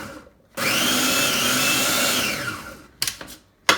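A blender pulses black beans into a coarse mash for burgers, giving one steady motor whir of about two seconds that winds down, followed by a few short clatters and knocks. No one speaks.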